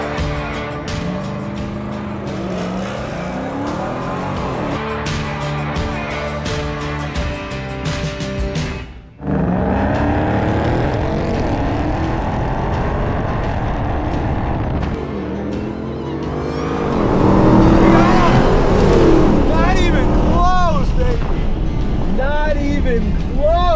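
A Ram TRX truck on constant four-wheel drive with 37-inch tires and a 3-inch lift drag races a V8 Challenger Hellcat over a sixteenth mile: a loud, sustained engine roar that briefly cuts out, then rises with climbing revs near the end.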